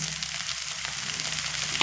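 Steady sizzling of taro stolons and prawns frying in a pan, soft and continuous with faint stirring, no voices.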